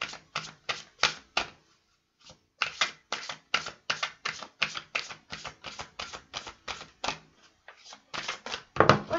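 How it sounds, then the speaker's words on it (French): Angel oracle cards are shuffled in a quick run of crisp riffling flicks, with a brief pause and then more rapid card snaps, close and fairly quiet without talk. "Je vais tirer quelques cartes des anges."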